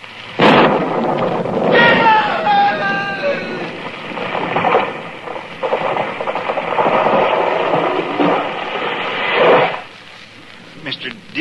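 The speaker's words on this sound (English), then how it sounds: "It was lightning. It struck the tree." A radio-drama thunder effect for lightning striking a tree: a loud, broad crash and rumble that swells and rolls for several seconds, with a voice speaking briefly among it before it fades.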